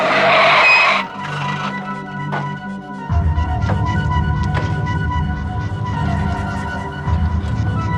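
A car brakes hard and its tires skid in a long, loud screech on the road, followed by a steady engine rumble as the vehicle idles and rolls on.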